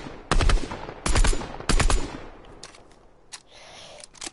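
Fortnite gunfire in three loud, sharp bursts spaced evenly in the first two seconds, followed by a few fainter isolated shots.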